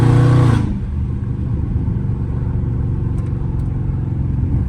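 A catless Dodge Challenger Scat Pack cruises a street late at night, its V8 engine giving a loud, close, steady exhaust drone after a brief heavier rev at the start.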